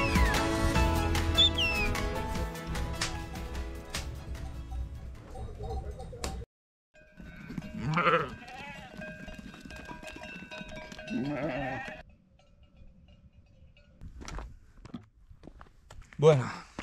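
Sheep bleat a few times out in the Pyrenees mountains, loud and close at moments, mixed with other outdoor noise and a person talking nearby.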